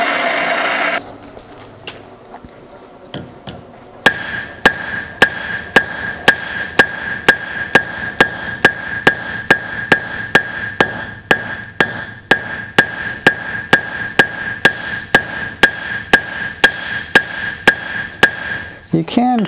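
A blacksmith forging a hot steel nail strikes it with a hammer in a steady series of sharp, ringing metallic blows, close and loud, following a brief quieter stretch at the start.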